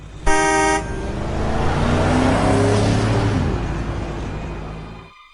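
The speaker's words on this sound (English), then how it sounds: "A car beeped as it raced past" A car gives a short loud horn blast and then speeds past close by. The engine roar swells, its pitch drops as it goes away, and it fades out. No one speaks.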